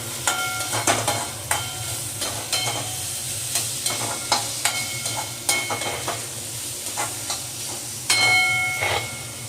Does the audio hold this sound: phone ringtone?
no